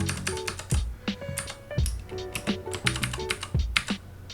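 Rapid clattering keystrokes on a computer keyboard during After Effects text work, with bursts of typing and repeated arrow-key taps nudging text around, close and fairly loud with no talking.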